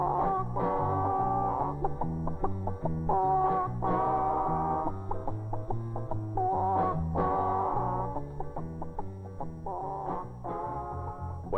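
A novelty recording of clucking chickens performing a tune. The bouncy swing rhythm plays steadily and loud, with no talking over it.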